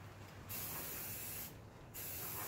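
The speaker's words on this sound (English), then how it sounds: "So I'm just going to go ahead with some rattle can etch primer just to get it in here." A rattle can of etch primer sprays in steady hissing bursts inside a cab mount area of a Ford F250 under restoration, two short pauses breaking the continuous close-up spray.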